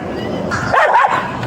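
A dog whimpers and yips close by inside a parked car, giving a short, high, wavering whine over a rumbling interior background.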